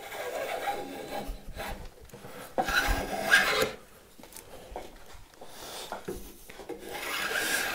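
Hand tools chamfering the edge of a wooden picture frame, rough rasping strokes in an irregular rhythm, close and alone.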